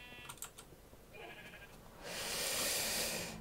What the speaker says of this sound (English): Look, there's a sheep there.